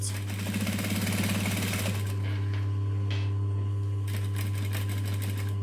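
A sewing machine stitches a seam on a fabric diamond pouch, its motor whirring with a fast rhythmic needle clatter that stops partway, then faint clicks and handling noises, close and steady, without speech.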